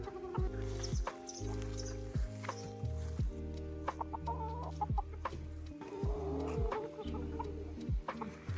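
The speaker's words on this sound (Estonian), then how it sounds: "Meie kanalas on 4 kukke ja 2 mitte munevat kana." Hens and roosters cluck in a farm coop holding four roosters and two non-laying hens, with repeated harmonic clucks and calls following one another, close and clear.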